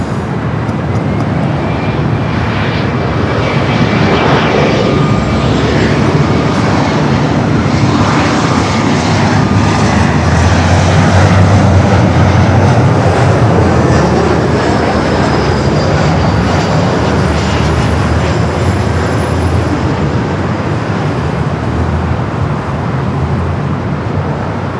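A Latam airliner roars past at Los Angeles airport, its loud, steady jet engine noise filling the scene with a broad rumble that holds strong throughout without any voices.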